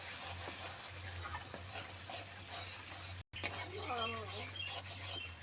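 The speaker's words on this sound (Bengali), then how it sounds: "এবার দিয়ে দিচ্ছি সর্ষে আর কাঁচা লঙ্কা বাটা। মশলার সঙ্গে খুব ভালো করে মিশিয়ে নেব।" Mustard and green chili paste gets stirred into sizzling masala in a pan for a mustard pabda fish curry, soft scraping strokes over a quiet frying hiss and low steady hum, with a brief high chirping sound midway.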